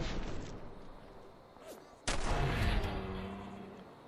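A shotgun blast fired in the video game Fallout 4 lands as one loud, sudden boom that lingers with a rumbling tail. Softer background game noise runs before it.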